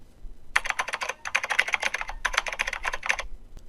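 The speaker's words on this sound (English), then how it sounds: "starts punching away at the keyboards" Rapid keyboard typing at a desk in a Batman animated scene, steady bursts of clattering keystrokes in several runs with short pauses, close and fairly loud, no voices.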